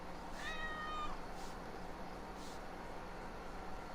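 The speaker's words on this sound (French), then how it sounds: "Oh, on caresse un petit chat." A cat meows as it is petted in the video game Assassin's Creed Valhalla, one short rising meow near the start, faint over a constant hiss of game ambience with no speech.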